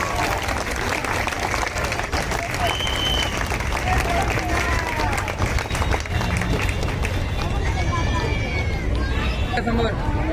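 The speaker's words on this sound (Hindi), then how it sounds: "तालियों से उनका हौसला अफजाई करिए" A crowd claps steadily and loudly for the full stretch at a BJP office inauguration, a dense, continuous wash of applause with a murmur of voices mixed in.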